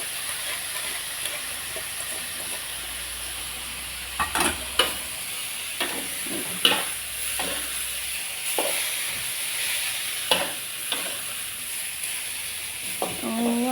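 Bamboo shoots stir-fried in a hot wok, a steady sizzle and hiss with repeated sharp scrapes and clanks of the spatula stirring, close and continuous throughout.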